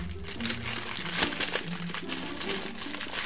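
Small plastic wrapping around a Whitebeard P.O.P Neo DX figurine crinkles steadily and close up, with continuous rustling and a few sharper crackles throughout.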